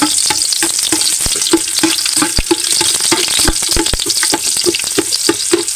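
Unpeeled garlic sautés loudly in a hot pan, a dense constant sizzle punctuated by quick, irregular spatula taps and scrapes close by, with no talking.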